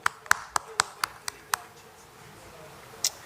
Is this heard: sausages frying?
no